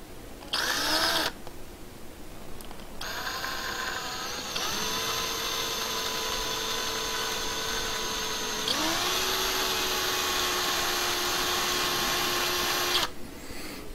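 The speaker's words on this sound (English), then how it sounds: "And then we're going to drill this now." A power drill bores into a miniature model with a loud, high whirring whine in several sustained bursts, its pitch stepping up and down between runs, with brief quiet gaps before and after.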